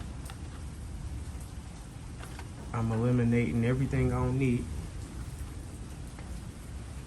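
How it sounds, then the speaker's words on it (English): Rain falling outside, a soft steady hiss that continues throughout, with someone speaking in the middle. "it's fucking raining outside, so it seems like I'll be pressure washing in the rain"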